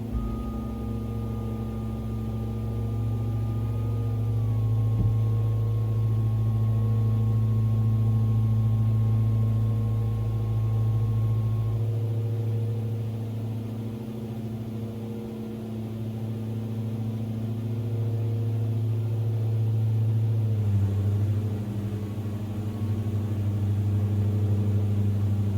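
Simulated twin-engine drone of a Diamond DA42 aircraft climbing out after takeoff in a flight simulator game, a steady loud hum with a shift in tone midway, continuous throughout with no talk.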